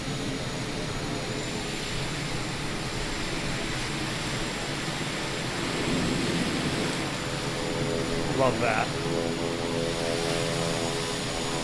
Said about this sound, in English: Yeah, the PT6 noises are pretty spot on.